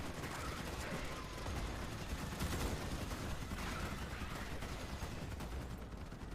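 Dense, continuous gunfire from Starship Troopers: Extermination, a steady barrage of shots rattling at full level throughout without letup, with no clear talk over it.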